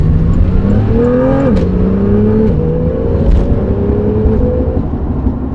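A Porsche 911 with four-wheel drive accelerates hard, its engine note climbing steeply and dropping briefly at each quick gear change before climbing again, loud and close with no talking.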